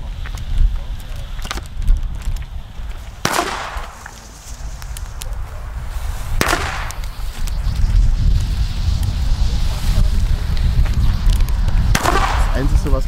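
Several sharp firecracker bangs from thrown Pyrotrade Vipper 3 SP firecrackers go off a few seconds apart, with outdoor rustling and wind noise between them.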